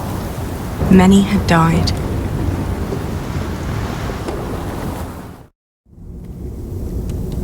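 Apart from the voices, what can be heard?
thunderstorm with rain in Pillars of the Earth video game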